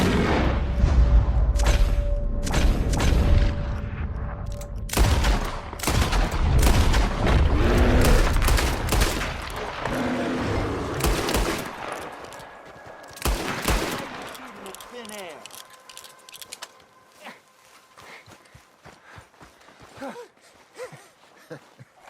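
Heavy gunfire in Red Dead Redemption 2: dense volleys of shots and booming blasts crowd the first half, then thin out into scattered bursts near the end, with voices shouting briefly underneath.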